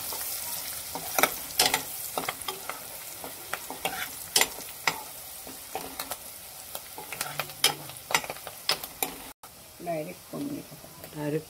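Masala paste for chole fries in hot oil in a pan with sharp crackles and scraping stirs over a faint sizzle, ending with a few brief spoken words.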